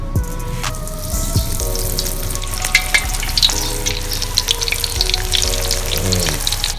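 A shrimp burger from a Tokyo tempura take-home kit fries in hot oil, loud dense bubbling and crackling with sharp pops and a few clinks of utensils throughout, no voices.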